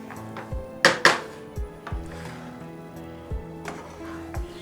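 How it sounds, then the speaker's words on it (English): A spoon gently stirs mixed sprouts rice in a metal pot, giving a handful of scattered clinks and scrapes, with two sharper knocks near the start, close and fairly quiet. "Now I am going to mix it with a light hand, the whole thing."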